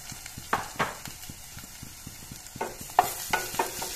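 Spices fry and sizzle in a pan while being stirred for a bottle gourd and fish dish, with repeated spatula scrapes and knocks against the metal over a soft continuous hiss.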